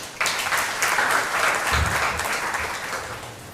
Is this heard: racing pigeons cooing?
no